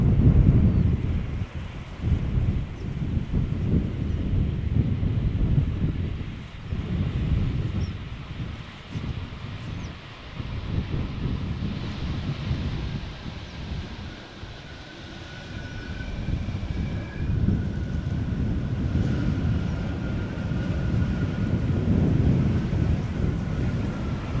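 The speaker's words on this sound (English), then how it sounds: "this is supposed to be an 8-knot wind" Steady wind of about 8 knots rushes across an open airport apron, a continuous low buffeting roar with gusty swells and microphone rumble, and a faint distant aircraft tone rising in the background.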